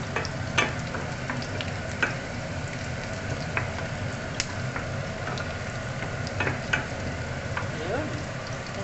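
Onions sauté in a pan for a Filipino sayote and sardine dish, giving off a steady close sizzle broken by scattered pops and occasional utensil clicks, without any talking.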